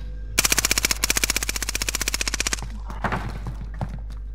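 A machine gun in Call of Duty: Modern Warfare fires a rapid, loud, evenly spaced burst of about two seconds, followed by a few scattered softer shots and impacts.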